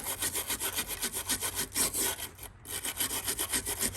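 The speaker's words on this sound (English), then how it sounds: "And this is just a stainless steel brush." A stainless steel brush scrubs an old Volkswagen Beetle part in fast rhythmic back-and-forth strokes, close and loud, with one brief pause midway.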